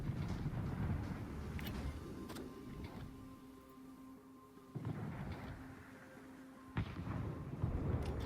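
Battleship guns firing armour-piercing shells in World of Warships, heavy booming shots over a low rumbling sea-battle background, with a couple of distinct blasts standing out toward the end.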